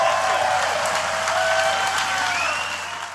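Live audience at an MLS All-Star show in San Jose applauds steadily, with some cheering mixed in. The clapping is dense and continuous, holding strong before tapering off slightly at the end.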